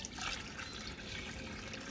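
Rinse water runs out of a bucket while ash is washed out for gold recovery from chips, a continuous soft trickling and splashing close by, without talk.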